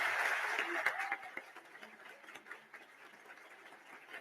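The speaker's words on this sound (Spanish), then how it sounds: "les pido un aplauso muy fuerte para el presidente de la Nación" A conference crowd applauds the president, the clapping loudest at first and then fading to scattered claps under background murmur.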